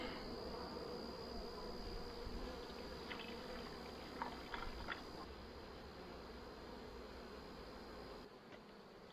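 Honey bees buzz steadily inside a late-summer nuc hive during an inspection with syrup feeding, a dense continuous hum with no talk over it.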